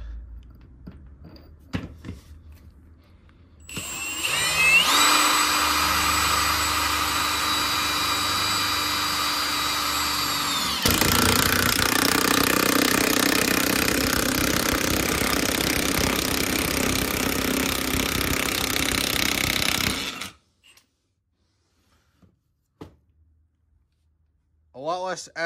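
A Ryobi One+ 1/2 inch impact wrench runs on speed 3 with a 3/4 inch impact socket, a loud sustained whine and rapid hammering lasting about sixteen seconds, shifting to harsher impacting midway, then stopping abruptly.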